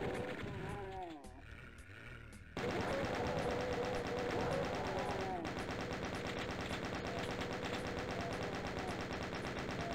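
Chaingunner enemies in Doom 2 on PC fire their chainguns in rapid, unbroken bursts. The gunfire starts after a short lull and a few growls, then keeps up dense and loud to the end.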